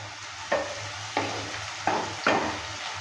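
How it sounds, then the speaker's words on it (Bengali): Vegetables frying in a pan are stirred with a utensil, a steady sizzle broken by four sharp scraping strokes at a loose, uneven rhythm, close and fairly loud, with no talking. "ঢাকনাটা তুলে নেওয়ার পর নেড়ে চেড়ে নিচ্ছি।"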